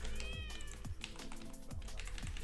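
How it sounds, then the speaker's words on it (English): A cat meows several times in a row, the cries rising and falling over a steady background hum with light clicking like typing on a keyboard nearby. "Shut up with the meows."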